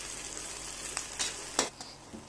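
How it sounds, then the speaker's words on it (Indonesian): Shrimp stir-fry in a pan until half cooked, a faint steady sizzle broken by a few sharp scraping stirs of the spatula, heard alone at close range. "kita tumis sampai udangnya setengah matang"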